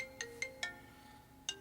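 A mobile phone ringtone goes off indoors during a wrestling predictions talk, four short bright electronic tones, three in quick succession and a fourth after a pause, fairly faint over quiet room tone.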